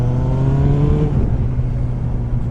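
Engine of a 23-year-old Kawasaki Ninja ZX9R motorcycle revving up to around 4,000 rpm, rising to a steady loud whine and then dropping back to a rumbling idle, close by.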